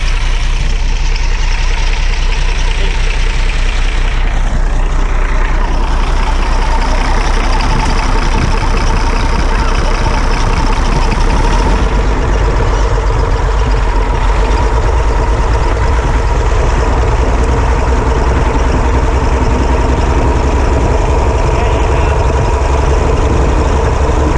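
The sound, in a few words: engine of a broken-down vehicle running at idle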